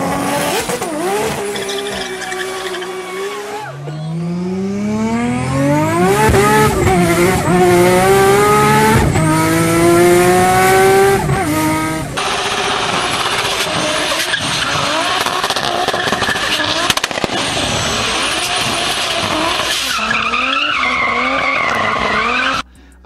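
A Nissan Cefiro A31 with an RB engine revs hard and skids, its engine note climbing and falling through repeated sweeps while tires squeal, loud and close for about twenty seconds with no voices.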